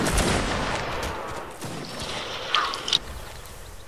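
A volley of gunfire from a regiment of troops in a video game rings out as a broad, rolling roar, with a couple of sharper reports standing out near the end.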